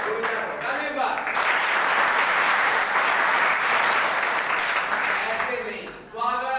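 Sustained, loud applause from a school event audience, a dense wash of clapping that fills the whole stretch and briefly thins near the end before a voice starts speaking.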